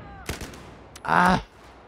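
Gunfire in Battlefield 4 multiplayer: a few quick sharp shots followed by a louder, longer burst of fire lasting about half a second, fairly close, with game noise around it.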